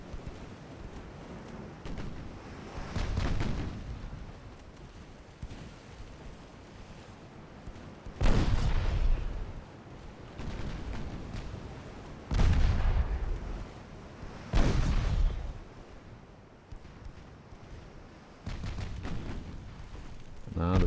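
Warship secondary guns firing high-explosive shells in the naval game Ultimate Admiral Dreadnoughts, French campaign of 1908: several loud, heavy booms spaced a few seconds apart, each with a rolling decay, over a low background rumble.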